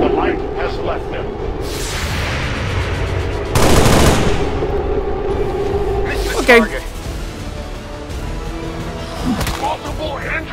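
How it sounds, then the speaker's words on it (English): Gunfire and explosions rattle through a battle in the video game XCOM 2, with bursts of automatic fire and heavy blasts under a voice speaking over loud game sounds. "The shockwave of that explosion reverberated throughout most of the city."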